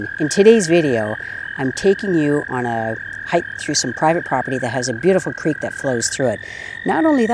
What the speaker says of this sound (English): You can hear the trilling of toads in the background.